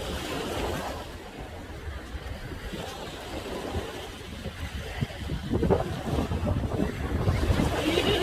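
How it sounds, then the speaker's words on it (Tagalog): Strong wind gusts across the microphone on the Saipan shore while ocean waves wash and break nearby, a continuous roar that builds toward the end, with no voices. "The wind, the water is very strong guys."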